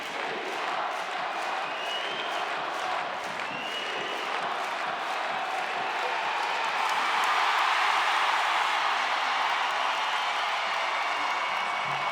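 An arena crowd roars at the close of the 2025 Challenge Cup ice hockey final between the Belfast Giants and Cardiff Devils, a sustained loud wash of cheering and clapping that swells further toward the end.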